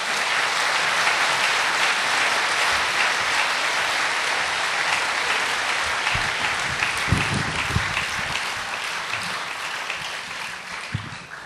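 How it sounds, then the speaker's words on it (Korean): An audience at an academic theology conference in Korea breaks into sustained, dense applause welcoming the interpreter, with the clapping steady throughout. "나오실 때 뜨겁게 박수로 환영해 주시기 바랍니다"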